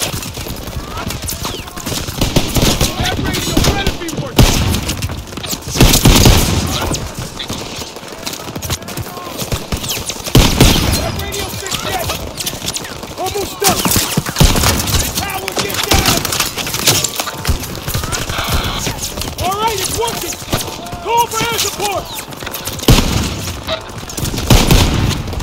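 Gunfire and machine gun bursts rattle constantly in a Battle of the Bulge World War II video game, dense loud volleys and sharp single shots overlapping throughout, with voices shouting amid the battle.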